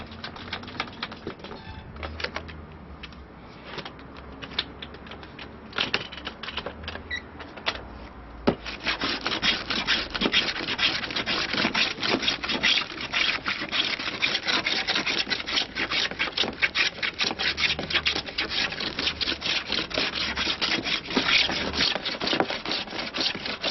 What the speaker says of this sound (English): Now sometimes with the grain it doesn't always work, and you have to find other ways of planing the other side.